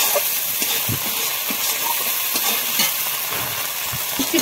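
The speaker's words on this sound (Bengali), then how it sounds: "মশলাটা আমি ভালো করে কষিয়ে নেব।" Spice masala of turmeric powder and salt being sautéed in a pan for an egg and potato curry, a continuous close hissing sizzle with light stirring scrapes throughout.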